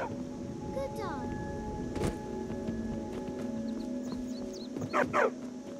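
Dog barking in the video game Skyrim, a few short yips and barks near the end over a steady game ambience of tones and background murmur.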